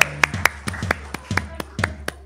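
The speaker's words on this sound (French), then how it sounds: "on les applaudit, bravo!" A handful of sharp, scattered hand claps ring out close by in an uneven rhythm as an audience applauds two girls about to perform a choreography, with no voices over them.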